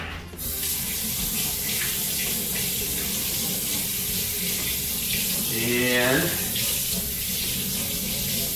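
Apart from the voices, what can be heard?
water running from a kitchen tap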